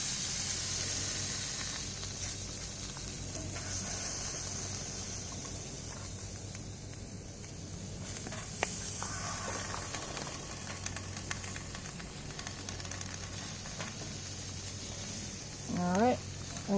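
Zucchini sizzles steadily on a warmed griddle over a camping stove flame, a continuous close hiss and crackle with occasional louder pops and a brief voice near the end.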